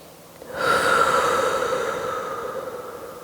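Yoga exhale: one long, steady breath out pushed through the mouth, rising quickly after half a second of quiet and then slowly fading over about three seconds, close and alone.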